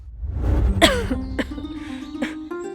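A woman coughs from wood smoke beside a roadside while carrying a bundle of dry sticks, a few harsh close coughs and throat-clearing sounds over a low rumbling background.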